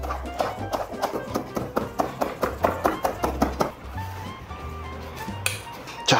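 Knife chopping fresh coriander on a cutting board, a steady run of quick crisp taps for about four seconds, then a few faint clinks and a low hum before a final knock.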